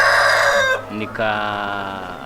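Improved kienyeji chickens on a farm, with a loud rooster crow followed by a short break and then more crowing and clucking, close and clear.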